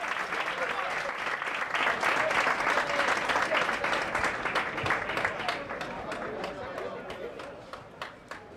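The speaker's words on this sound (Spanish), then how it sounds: "Y ahí está el aplauso del respetable." A football crowd in a lower-league match applauds a player being substituted, broad steady clapping from the stands that gradually thins and fades, with a commentator talking over it.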